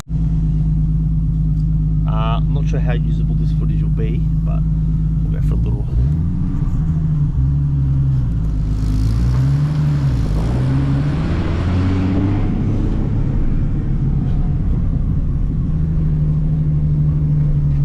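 A Nissan Skyline R31 with a small turbo idles and then drives off, a deep engine rumble with audible shifts in pitch as it pulls away, under someone talking close by.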